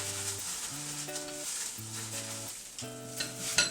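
Chicken wings stirred into warm hot sauce in a pan, a soft steady sizzle with light stirring scrapes and a gentle clatter near the end, under faint background music, no talk.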